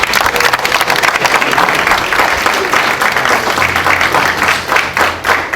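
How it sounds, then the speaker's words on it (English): Sustained round of applause from an audience at a training event honoring the volunteer ultrasound models, dense and steady clapping with crowd noise throughout. "let's give them a round of applause"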